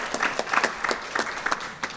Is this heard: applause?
yes